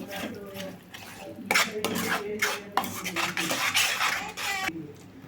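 Coconut masala being stirred in a pan, with repeated scraping and metallic clinks of a spoon against the pan in uneven strokes, close and fairly loud, with no talk.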